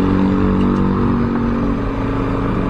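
A repaired Honda RS200 motorcycle engine drones loud and close in a steady pull, without pause.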